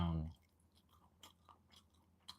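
Someone chews Ngoh Hiang, a Singapore street-food roll with crunchy golden-brown skin, producing a few scattered soft crunchy bites after a brief burst of voice at the start.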